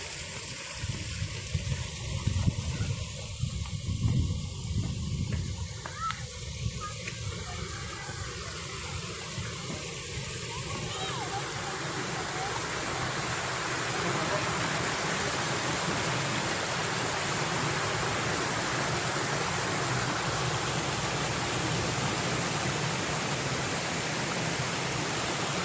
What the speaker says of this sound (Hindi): यहाँ पर भी एक छोटी आबशार है,